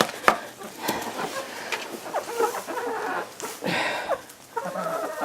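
Several chickens cluck and squawk nearby in short, irregular bursts, with some soft rustling and clatter between the calls.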